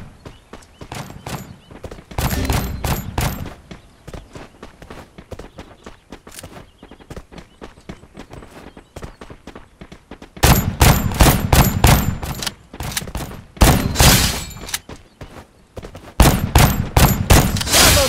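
An M14 rifle fires in the Free Fire mobile shooter's Clash Squad mode, with loud, rapid volleys of shots in repeated bursts and quieter stretches of single pops and footsteps between them.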